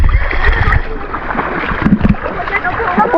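Waves splashing and sloshing against a small boat, a close choppy churn of water with knocks on the hull, while people talk over it.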